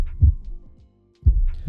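Heartbeat sound effect, a deep low thumping with two double-pulse beats separated by a short silence, close and muffled, with no voices.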